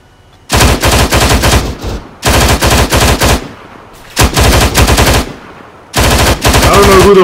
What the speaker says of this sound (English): I just heard enemy weapons fire southwest,